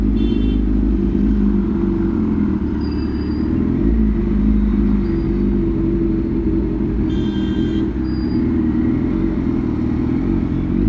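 A Kawasaki Z900 motorcycle engine runs steadily while the bike moves, a loud, continuous low rumble with a faint whine that swells and settles throughout, no talking over it.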